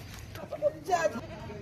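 Rajanpuri goats, kept with their kids in a livestock yard, give a few short bleats under close male speech.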